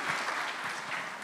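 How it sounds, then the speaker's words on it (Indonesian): Audience applause in a church sermon setting, a steady dense wash of many hands clapping continuously at moderate loudness, with no voices over it. "Kita tepuk tangan sekali lagi"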